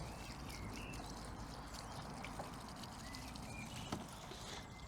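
Water trickles and dribbles from a can onto a strawberry plant mixed with tomato feed on an allotment in spring, a faint, steady outdoor pour.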